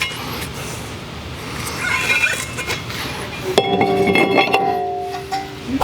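A metal brake rotor is handled during a 2012 Honda CV axle replacement, giving close clinks and ringing metallic knocks, with a sharp resonant clang near the end.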